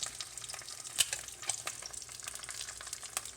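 An egg frying in a pan at moderate heat, a steady soft sizzle with faint crackles and pops, quiet and close.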